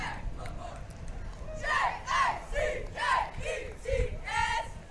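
Junior varsity cheerleaders at a Christmas parade shout rhythmic cheers in bursts, a chorus of young voices repeating short chant phrases several times at moderate distance over street noise.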